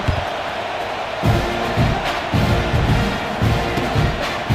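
Stadium crowd noise in the College Football 26 video game during a kickoff after a touchdown, a steady roar with rhythmic swells of chanting and cheering, fairly loud and continuous with no talk over it.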